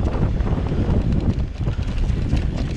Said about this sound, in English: Oh, right into the wind.